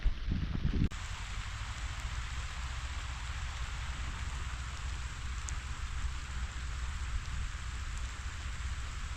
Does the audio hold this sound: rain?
yes